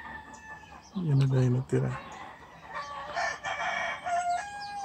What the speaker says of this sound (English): The roosters are making their thing.